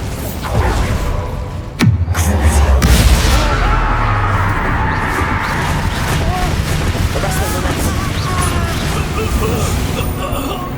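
Bombarda explosion spell in the video game Hogwarts Legacy, a sharp booming blast followed by a low rumbling decay, set against loud, busy combat effects and game music.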